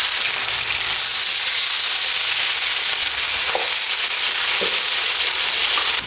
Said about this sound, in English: let's layer our lamb chops into the pan